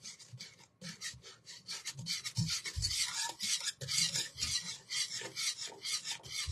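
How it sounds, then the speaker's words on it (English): A spoon stirs a homemade chocolate syrup mixture in a pot, making close, rhythmic rasping scrapes against the pan, fairly quiet, with no voices. "Okay, so I'm just stirring this all in."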